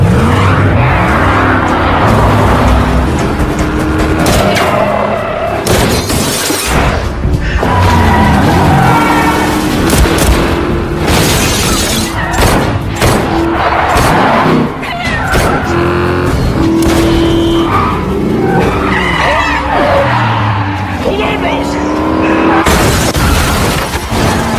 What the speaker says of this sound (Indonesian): tiba-tiba saja mobil sedan mengejarnya secara edan